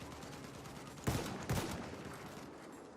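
Machine-gun fire in the World War I shooter Battlefield 1 comes as two short, fairly faint bursts in quick succession over low background noise.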